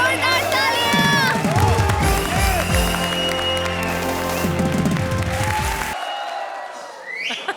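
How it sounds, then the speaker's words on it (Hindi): A comedy show studio audience cheers and applauds, with excited shouts, whoops and a whistle over loud clapping, then cuts off abruptly into near silence. "हमारी चारों जोड़ियों के लिए जोरदार तालियां।"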